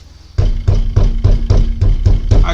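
Close, heavy knocks strike the front wheel of a Peugeot 307, about eight evenly spaced thumps in a steady rhythm, each with a dull low boom and a slight metallic ring, with no talking.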